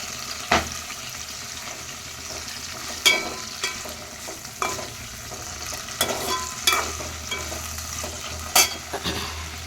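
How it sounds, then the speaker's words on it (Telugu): Green chillies fry in hot oil in a pan for a chilli, curry leaf and tomato chutney, a continuous sizzle broken by repeated sharp clicks and scrapes of a spoon stirring. "ఇవి పచ్చిమిర్చి అయితే ఫ్రై అవుతున్నాయి"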